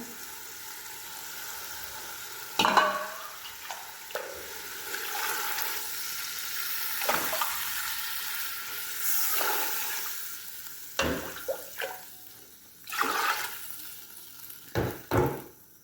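Chicken that has been fried down in a pot sizzles and hisses as water is poured in, followed by repeated scraping stirs and clattering utensil strokes, close and fairly loud with no talk.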